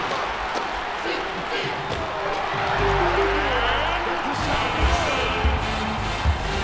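A lively crowd roars and cheers in an arena in the basketball video game ESPN College Hoops 2K4, a steady, energetic wash of noise with ball bounces and thumps mixed in.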